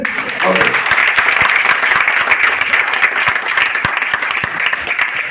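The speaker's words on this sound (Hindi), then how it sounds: "तो बजाओ ताली से।" People at a meeting clap together in a dense, continuous burst, with a voice briefly heard at the start under the clapping.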